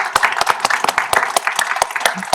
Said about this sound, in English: Could you give a round of applause for Alex?